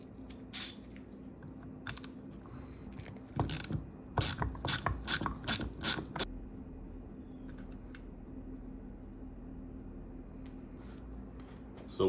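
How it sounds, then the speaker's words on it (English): Ratchet clicking in quick bursts while backing out an 8mm bolt on the throttle body rod of a BMW S54 individual throttle body setup, close and crisp, with a steady whine in the background and no talk. "take off this 8mm bolt on the front of the rod"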